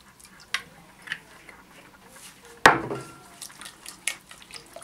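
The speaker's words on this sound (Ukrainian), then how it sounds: "Це все розмішуємо." Pizza dough mixture with olive oil is stirred in a bowl, giving scattered clinks and taps of a utensil against the dish and one sharper knock partway through, with no talking.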